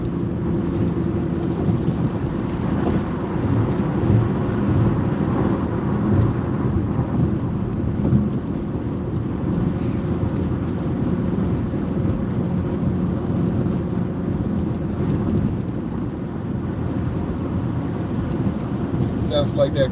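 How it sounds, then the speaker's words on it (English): Low, steady exhaust drone inside a car driving in city and highway traffic, a constant rumbling hum that continues without break beneath a voice talking throughout. "Sounds like that car has exhaust drone. That's a really low sound that's in the car all the time."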